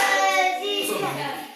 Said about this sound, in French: Acclamez d'abord pour notre jeune talent.